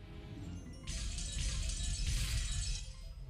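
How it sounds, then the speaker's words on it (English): Glass shatters throughout a mansion in the visual novel Umineko: When They Cry, a series of bright crashing breaks over a low rumbling backdrop, fairly loud and continuous for a few seconds without speech. "sounds of shattering glass could be heard from all parts of the mansion"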